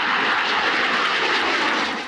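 A fixed-wing airplane flies past with a loud, continuous roaring engine drone that stays steady and close, fading slightly at the very end, with no voices.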